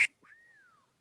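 A person whistling a single sliding note that rises slightly, holds, then falls away, faint and alone after a short click.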